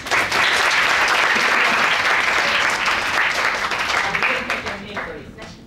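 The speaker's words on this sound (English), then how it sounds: "Round of applause, please." A classroom audience bursts into sustained clapping that starts at full strength, holds steady, then gradually thins and fades out over several seconds.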